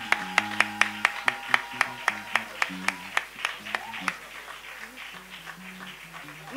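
A church congregation at a prayer service claps in steady unison to acclaim the Lord, a regular beat of close handclaps over soft music that fades into quieter playing.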